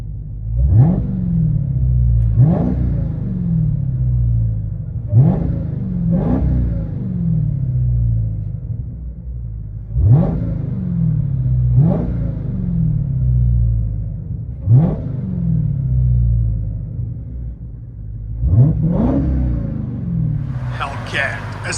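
A 2022 Dodge SRT Hellcat widebody with a muffler delete revs repeatedly, heard from inside the car: about eight sharp, deep blips, each rising fast and falling away, spaced a couple of seconds apart, with a brief higher sound at the end.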